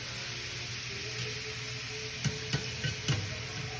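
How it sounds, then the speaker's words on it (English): Morels and peas frying in a knob of butter in a pan, a steady low sizzle with a few soft clicks and knocks of stirring near the end. "knob of butter goes in, morels go in. And you're just gonna roast this off."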